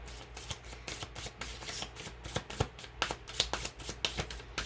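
Tarot cards being shuffled by hand, a steady run of crisp riffling clicks and soft slaps, close and moderately quiet, with no talking.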